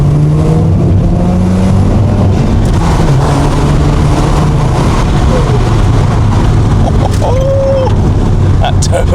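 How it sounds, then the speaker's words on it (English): A turbocharged car on a bumpy ride drones loudly with a steady engine roar as it accelerates, heard from inside the cabin while people talk over it. "That turbo sound is sick"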